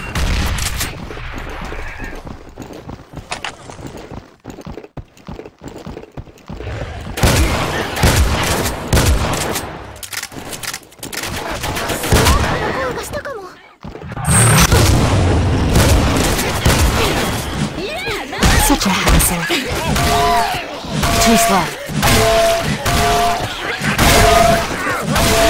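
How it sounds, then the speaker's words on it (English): Sustained video game combat with heavy bursts of gunfire and booming grenade blasts, loud and dense over most of the span, with brief quieter gaps and some voice chatter. "Grenade."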